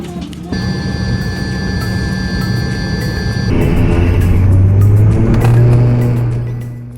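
Fiji Airways passenger aircraft taking off for Tuvalu, steady loud cabin engine roar with a tonal whine that shifts as thrust builds, then heavy low rumble during the takeoff roll, no talk.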